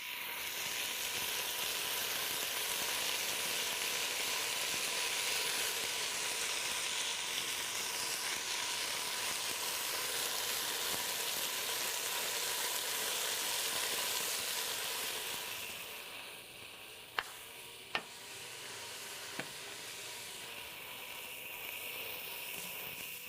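Beef pieces for goulash sizzle steadily in a hot pan, a continuous frying hiss that eases off after a while, with a few sharp clicks of a utensil toward the end.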